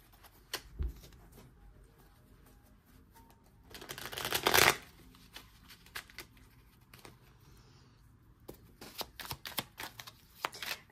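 A deck of tarot cards is shuffled by hand in soft, quiet bursts of riffling and flicking, with one louder run in the middle and scattered taps toward the end.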